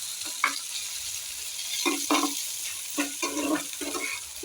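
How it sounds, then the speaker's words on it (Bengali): Bouta greens frying in oil with a continuous soft sizzle, broken by several short bursts of stirring and scraping in the pan; nobody speaks. "তো এইভাবে তেলে ভেজে নিচ্ছি"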